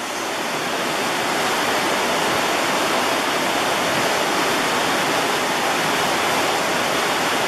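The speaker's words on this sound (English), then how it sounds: "On Carlo Creek, near Denali Park in Alaska." Carlo Creek near Denali Park, Alaska, rushes steadily in a dense, unbroken roar of flowing water, loud and close throughout with no voices.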